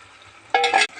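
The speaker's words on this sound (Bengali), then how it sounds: "এবার আমরা চিংড়ি মাছগুলো দিয়ে দেবো" Prawns drop into a spiced masala already frying in oil in a pan, giving a brief burst of sizzling and stirring over a quiet background.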